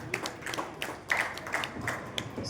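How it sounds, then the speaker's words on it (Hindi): Audience at a Hindi literary gathering applauding a poet in welcome, with scattered, thin claps tapping unevenly at moderate distance across the whole moment. "तालियों के साथ स्वागत"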